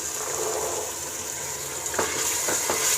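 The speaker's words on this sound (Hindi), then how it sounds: "अब हमने इसमें मटर ऐड कर देने हैं।" Green peas go into a sizzling chicken masala with a steady fry hiss, followed by a few short stirring scrapes near the end, with no voices.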